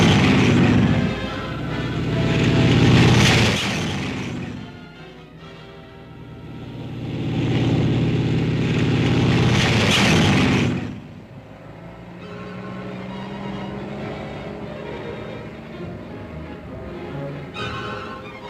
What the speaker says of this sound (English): Tanks move up on the flank.